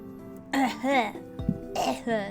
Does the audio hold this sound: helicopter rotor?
no